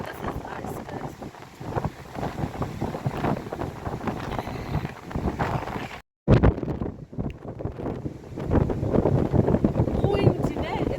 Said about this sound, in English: the wind in Cape Town is so strong